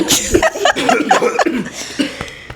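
A few short coughs mixed with chuckling and brief laughter, close by and loud, in quick irregular bursts.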